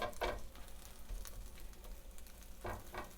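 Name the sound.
food cooking down in a frying pan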